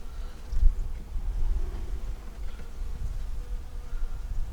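Honey bees hum from an open hive on a cold day, a low continuous buzz that stays fairly steady, with no talking over it.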